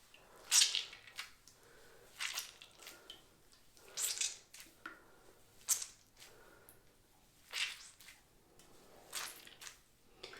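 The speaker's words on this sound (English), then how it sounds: "I squish out as much water as I can" Wet, gelled curly hair is squeezed by hand in a bathroom, giving soft rhythmic squelches about every second and a half, close and fairly quiet with no talk.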